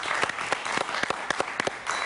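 Studio audience at a television interview show applauding, a brief burst of scattered, fairly close claps with distinct individual hits over a light crowd bed.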